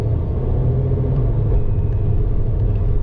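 Supercharged 5.7 Hemi V8 fitted with a ProCharger, rumbling at a steady idle: a deep, loud, continuous low growl close by, with no talking over it.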